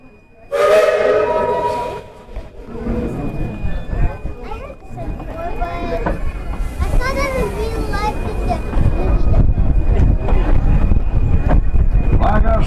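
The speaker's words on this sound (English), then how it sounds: "Thomas, Casey Jones, let's get this train on back to town." At Tweetsie Railroad, a Thomas-themed steam train sounds a loud whistle as it pulls away, then a rising rumble of the departing train under children's chatter and speech.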